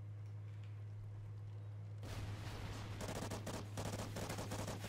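Gunfire in Call of Duty: Ghosts breaks in partway through over a constant low electrical hum, then continues as dense, rapid automatic shots with sharp cracks stacking up.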